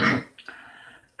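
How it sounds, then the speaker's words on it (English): A single sharp, close cough is followed by a brief raspy throat clearing that trails off, then a short sudden noise at the very end. "trying to clear my throat here"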